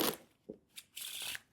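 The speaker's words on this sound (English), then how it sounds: "Shuffling these cards" Tarot cards are shuffled in quick, soft riffling bursts, a few short flicks followed by a longer papery rustle, close and fairly quiet, with no speech.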